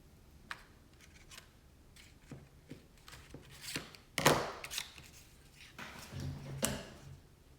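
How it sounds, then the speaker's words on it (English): Paper side strips for papering box edges being cut, heard as sparse, quiet snips and soft paper rustles with short pauses between them and no talking. "now I have my side strips, which I am going to cut 2 sides"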